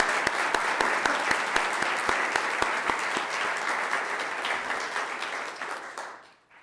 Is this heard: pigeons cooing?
no